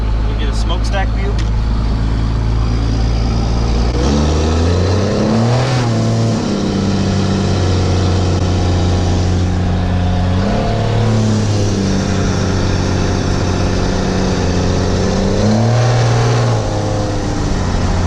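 Cummins diesel pickup truck with a smokestack exhaust driving and accelerating, a loud close engine drone that climbs and drops through several shifts, with voices talking over it.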